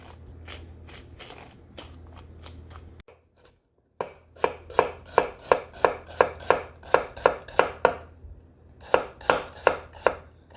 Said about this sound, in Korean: 좀 얇게 썰어줍니다. 채를 썰어주세요.